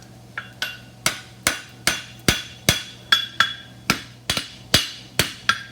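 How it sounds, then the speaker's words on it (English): Hammer striking a steel horseshoe on an anvil while shaping a mushroom trotter shoe: about fourteen sharp, ringing metallic blows in a steady rhythm, close and loud, each with a brief bright ring after impact. "I'm just going to pull the hammer toward me and not hit the front"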